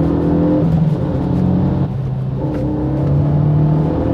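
A Renault Megane RS 265 hatchback pulls hard in third gear, its engine note steady and loud from the cabin with a sustained rising drone and brief dip around the gear hold, no talk over it.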